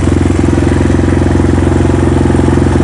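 Kayo T4 Chinese motorbike engine running on an uphill climb, a loud close, steady single-cylinder putter with a fast regular pulse and mechanical clatter throughout.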